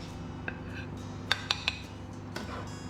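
A knife and fork clink against a plate of chicken à la crème, with a few sharp, close taps clustered together over a low, steady room hum.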